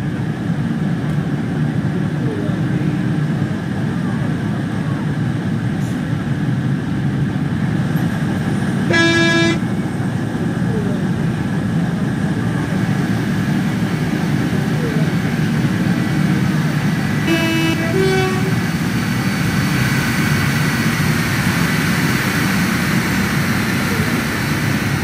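A train pulls into Bad Oldesloe station on the Hamburg to Lübeck line in Train Simulator, with a steady low rumble throughout and two short horn toots, the second a little later than the first.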